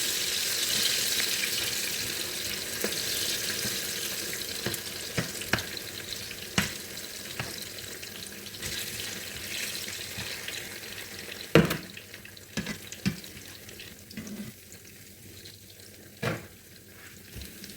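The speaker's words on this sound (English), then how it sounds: "We have to fry the plantain." Plantain frying in hot oil gives a steady sizzle and crackle that fades slowly, broken by scattered clicks and knocks of utensils and a louder clatter partway through, with no talk.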